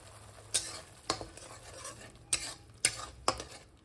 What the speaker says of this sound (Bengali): কাঁচা গন্ধটা যতক্ষণ না যাচ্ছে ততক্ষণ এটাকে একটু ভাজতে হবে।